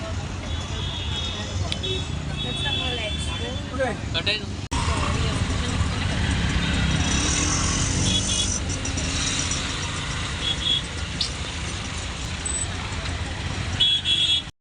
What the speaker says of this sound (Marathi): आता आम्ही बसलोय रिक्षामध्ये